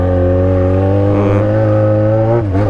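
Jaguar XJ6 engine revving loud and close through a throaty exhaust, a steady harmonic drone holding for a couple of seconds before a brief dip and rise in pitch near the end.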